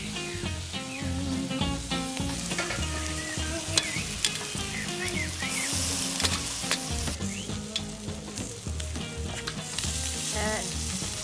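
Pork chuleta for Filipino BBQ frying in a pan, a steady close sizzle with crackling pops and occasional stirring and clinking throughout, with no talk.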